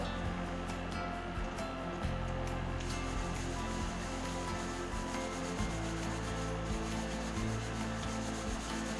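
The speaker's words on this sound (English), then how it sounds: "Follow hand hygiene with hand rub." Hands rub together with an alcohol hand rub in a steady, continuous dry swishing, close and fairly even throughout, with no talk.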